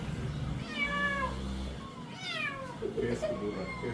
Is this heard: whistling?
no